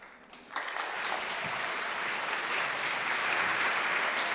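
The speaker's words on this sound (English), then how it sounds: "One is you're applauding for a college code vote" An audience at a college awards ceremony breaks into steady applause that swells within half a second and holds as a dense, even patter of many hands, moderately distant and with no talk over it.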